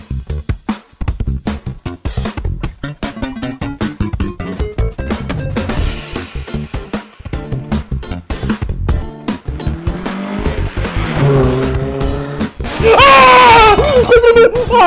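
Video game car drifting, tires squealing in long wavering screeches over a revving engine, loud and close, with excited shouting over it toward the end.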